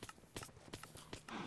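Horse hooves clip-clopping in the video game Minecraft, a quick uneven run of sharp close hoofbeats, about a dozen clops, with game noise underneath.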